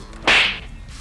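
Rear headrests in a 2013 Volvo S60 T6 fold down remotely at a button press, giving one sharp, loud snapping thwack that decays quickly in the cabin.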